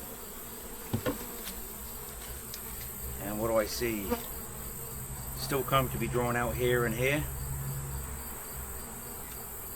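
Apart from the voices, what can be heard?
honey bees buzzing in hive super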